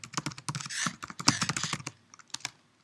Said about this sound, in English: I'm having a hard time typing right now.